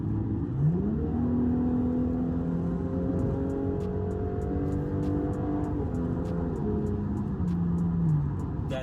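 A car with its muffler changed revs hard under acceleration, the exhaust note climbing and dropping in steady sweeps, loud and continuous from start to finish.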